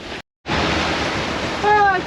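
While sailing near St. Vincent, steady wind roars across the microphone over the wash of waves, cut by one short dropout near the start, with a brief tonal whine near the end.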